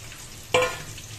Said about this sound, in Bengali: পটল ভাজছি, কড়াইটার মধ্যে পেঁয়াজটি দিয়ে দিলাম